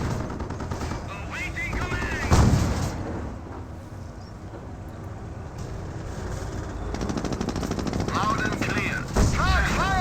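Dense World War II battle noise from Company of Heroes, with machine-gun fire, rifle shots and heavy tank cannon booms rolling together under a constant din, some blasts louder and closer.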